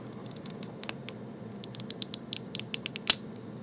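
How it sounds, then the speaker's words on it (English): Plastic of a Transformers G1 Targetmaster Misfire toy creaking under stress, a string of small sharp ticks and creaks close up, irregular and faint, ending in a louder snap. "that is the sound of plastic being stressed"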